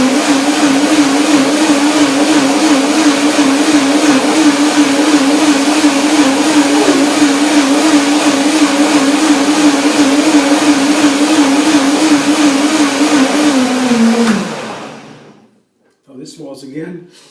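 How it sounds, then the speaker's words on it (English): A kitchen blender runs continuously on hazelnuts and chocolate cream, a loud, steady motor whir with a wavering hum, then winds down and stops, followed by a short faint rattle. "One more blender dance."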